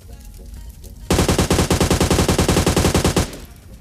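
Machine gun spray fire from a battle royale shooter game rattles out in one loud, rapid burst of roughly two seconds, sharp evenly spaced shots close up after a quieter background.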